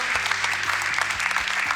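Sustained audience applause at a coaching institute stage event, dense steady clapping filling the whole stretch with a low musical hum beneath it.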